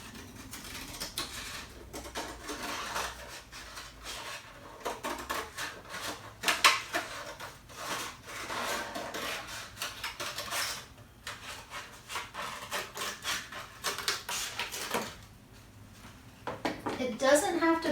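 Scissors cut a curved mask shape out of a paper plate, making a steady run of crisp, close snipping and rustling sounds while someone talks over them.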